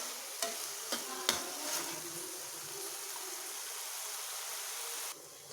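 A spoon stirs potato podimas frying in a pan, giving a few sharp scraping knocks at the start over a continuous, even sizzle that carries on alone until it cuts off near the end.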